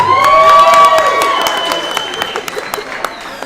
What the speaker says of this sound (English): Yankee fans cheer.